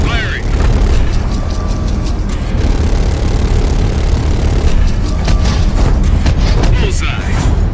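Gunfire on a rooftop in Call of Duty Black Ops Cold War: a loud, dense stretch of booming shots and rumbling blasts runs throughout, with radio-style voices talking over it.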